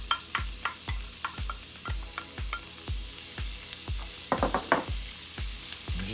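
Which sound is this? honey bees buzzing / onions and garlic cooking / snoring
onions and garlic cooking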